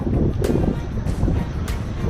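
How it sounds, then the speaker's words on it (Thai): Strong wind roaring into the microphone while riding a fast boat along a Thai canal, a loud, steady low rumble with gusty bursts and engine-like noise underneath. "เฮ้ย ลมแรงครับลมแรง"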